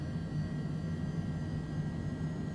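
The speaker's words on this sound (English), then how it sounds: "as the engines rumble to life." Steady low rumble of a Cessna Longitude business jet's engines starting up, with a constant hum and faint high whine, continuous and fairly distant, no voices.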